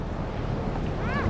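Ocean waves at Naga Beach, Samar, wash in a constant broad roar mixed with wind buffeting the microphone, close and loud, with a brief voice near the end.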